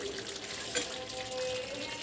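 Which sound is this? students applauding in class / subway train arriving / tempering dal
tempering dal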